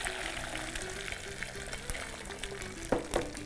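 Onions sautéing in a pan with spluttered mustard seeds, fenugreek and curry leaves, a quiet continuous frying hiss with occasional spoon scrapes and a couple of sharper clinks near the end, no talk.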